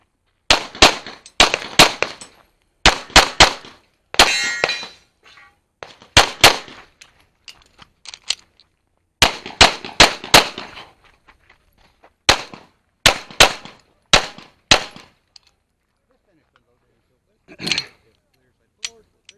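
Pistol shots fired in quick bursts of two and three at an IDPA shooting competition stage, loud and sharp with short pauses between strings, a few final shots spaced out at the end.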